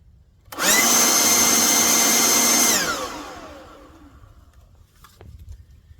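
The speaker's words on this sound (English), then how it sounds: "here what you can expect for noise from this blower" A Ryobi 40V cordless leaf blower, model RY40403, spins up in turbo mode to a loud, steady high-pitched whine and airy roar for a couple of seconds, then winds down with a falling tone as the motor coasts to a stop.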